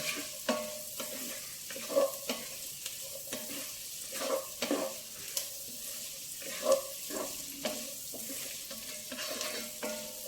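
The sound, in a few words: frying and stirring carrots for mushroom curry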